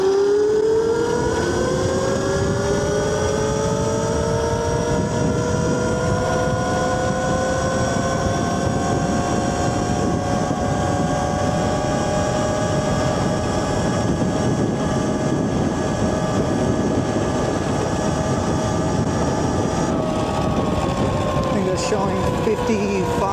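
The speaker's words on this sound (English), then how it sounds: "first ride on the new Yozma i10 Pro with the 72 volt setup installed" A Yozma IN 10 Pro electric motorcycle converted to 72 V runs at speed. Its motor gives a sustained high whine with rising and falling tones over constant, loud wind rush, heard close up throughout.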